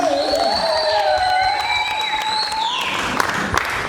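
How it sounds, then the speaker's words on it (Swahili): Applause and high trilling ululation from a congregation at a Wednesday church service, several voices warbling over steady clapping close by, easing off toward the end. "makofi na vigelegele."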